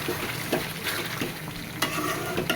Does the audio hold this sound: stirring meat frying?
yes